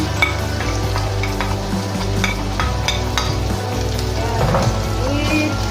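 Garlic and onion sizzle and crackle in a hot pan for a meat paella, with a steady frying hiss broken by repeated scraping stirs of a utensil, close and clear.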